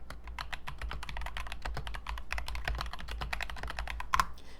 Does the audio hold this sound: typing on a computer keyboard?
yes